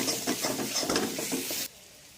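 Mutton curry masala with spices sautéing in a pan, a close crackling sizzle with stirring scrapes that cuts off abruptly partway through, leaving near silence.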